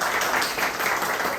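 Applause from an audience at a Korean lecture event on the economy of mutuality, a dense, steady wash of clapping filling the moment without a break.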